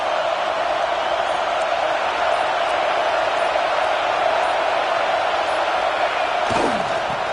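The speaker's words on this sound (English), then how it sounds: "Listen to this crowd just shaking the girders of this place" An American football stadium crowd roars steadily for the defense, a dense, loud wall of noise that holds for seven seconds, with a single sharp thud near the end.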